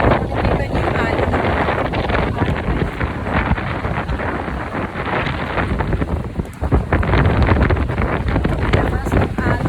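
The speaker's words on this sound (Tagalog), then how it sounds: "Lakas ng alon at malikas ng hangin." Strong wind roars across the microphone at a beach, mixed with crashing waves in a continuous loud broadband rush throughout.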